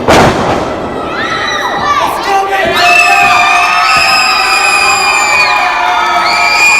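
Young wrestling fans at a live pro wrestling event in Manteca screaming and cheering loudly, high-pitched shrieks and shouts rising in overlapping waves from a close, dense crowd.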